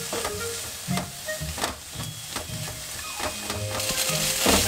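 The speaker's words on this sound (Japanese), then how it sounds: "飴色になるまで炒めようとは思うんだけどさ" Onions cooking in melted butter in a pan give off a steady broadband sizzle. Repeated soft stirring clatters and scrapes run through it, and the frying grows a little louder toward the end.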